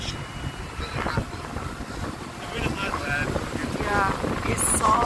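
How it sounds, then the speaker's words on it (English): Wind buffeting a microphone on a boat on Loch Ness in Scotland, a rough continuous rumble with gusts rising toward the end, with people's voices faintly mixed in. "it's so windy"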